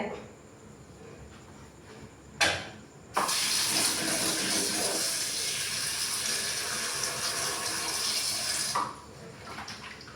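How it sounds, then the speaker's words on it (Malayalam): Water gushes steadily into a cooking pot for making avial, a loud, continuous splashing rush lasting several seconds after a brief clatter, then cutting off abruptly. "ഞാൻ ഇച്ചിരി വെള്ളം വെക്കട്ടെ."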